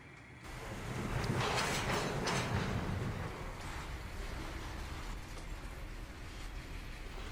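Railroad freight cars coupling hard in a rail yard on an industrial division, a distant, low rumbling impact and rolling roar that swells and then fades into steady outdoor wind noise.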